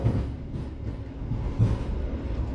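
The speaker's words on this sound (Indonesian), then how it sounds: "hampir 5 menit ini kereta api Sancaka Utara yang mau masuk stasiun Cepu" The Sancaka Utara business-class passenger train rolls along the rails toward Cepu station, a low rumbling drone with rhythmic clunks of the wheels over the track joints, heard from inside the carriage with no talking.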